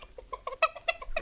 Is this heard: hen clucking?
yes